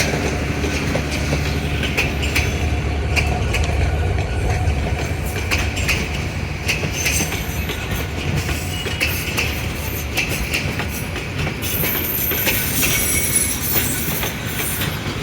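Turag commuter train from Gazipur rolling past near the airport station, a loud continuous rumble with clattering wheels and metallic squeals throughout, faint voices underneath.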